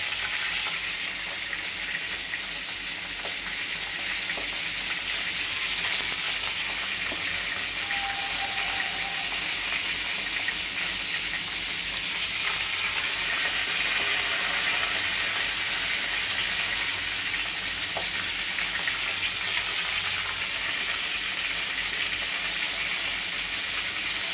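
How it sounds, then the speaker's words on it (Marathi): Eggplants sizzle steadily in hot spiced oil for a Marathi-style brinjal curry, a dense continuous frying hiss with faint crackles and occasional stirring, close and constant throughout. "अशा प्रकारे आपण सर्व वांगे मसाल्यात तेलात सोडूया मसाले बनवून"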